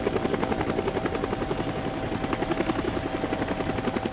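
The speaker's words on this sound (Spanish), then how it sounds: "Tim realizaba un trabajo rutinario para el Times Life en un helicóptero cerca de la frontera con Camboya." A helicopter flies near the Cambodian border during the Vietnam War, its rotor thudding in a steady, rapid beat beneath a constant loud turbine whine, with no voices.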